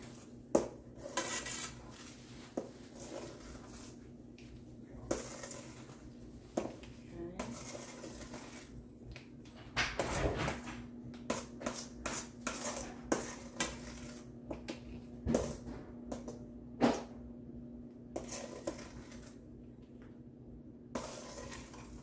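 A limeade Cool Whip pie mixture is stirred and folded in a bowl, with repeated scraping, tapping and clinking of a utensil against the bowl in irregular bursts and a low background hum.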